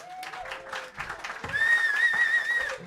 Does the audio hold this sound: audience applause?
yes